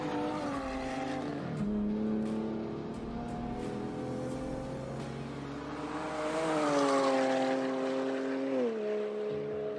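A BMW 135i with a turbocharged six-cylinder engine on a track day, its engine tone climbing and falling through gear changes, steady and fairly close with no talk.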